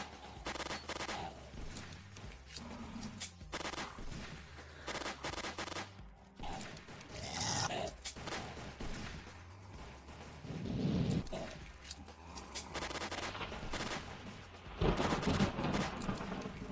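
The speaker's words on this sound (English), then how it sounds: "I am shooting the bad guys." Steady bursts of gunfire from Final Stand 2 run throughout while the player shoots bad guys, with dense repeated shots over game music and effects, fairly quiet overall.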